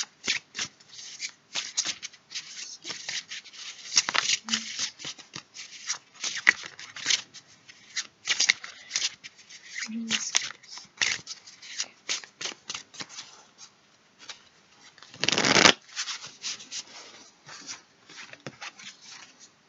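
Tarot cards being shuffled by hand: soft, continuous rustling and flicking for about twenty seconds, with one louder riffle near the end.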